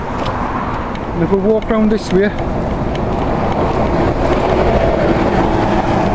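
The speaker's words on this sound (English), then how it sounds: "Sorry for the noise of the traffic" Road traffic rumbles and swishes past continuously beside a road, fairly loud, with someone talking briefly over it.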